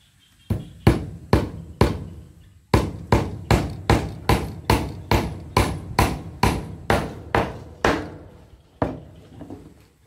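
Hammer blows ring out while a hut is being built, a loud, close series of about twenty sharp strikes in steady rhythm, broken by short pauses between runs.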